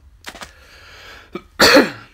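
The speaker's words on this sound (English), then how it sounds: "Sorry, I got a bit of a cough going on" A couple of quick throat-clearing coughs, then a short pause and one louder, harsher cough close to the listener.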